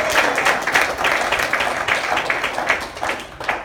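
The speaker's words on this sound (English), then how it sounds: "Can we salute all of those persons with a hearty applause?" A church audience gives a hearty round of applause, a dense wash of clapping that stays fairly loud and even for a few seconds.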